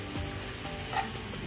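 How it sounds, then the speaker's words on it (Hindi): Spices for pizza bites, including paprika, sizzle and fry in oil with a constant close crackle and hiss, plus a faint stirring clink. "बस इनको ऑयल के साथ थोड़ी देर बस भूनना है।"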